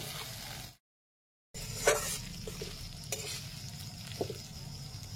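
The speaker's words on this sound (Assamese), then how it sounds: "এয়া ঔটেঙাখিনি ধুনীয়াকৈ সিজিছে আৰু একেবাৰে শুকান তেল ভাজি কৰি বেছি হেৰি হ'বলৈ নিদিওঁ" Elephant apple pieces and fish fry in oil in a pan with a steady close sizzle, broken by scraping stirs of a spatula, and no voices.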